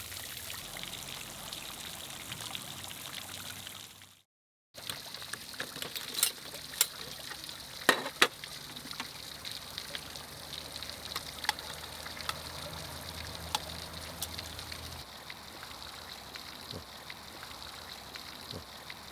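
Steady outdoor fountain water splashing and trickling, a continuous moderate wash with scattered brighter drips, broken by a brief silent gap early on.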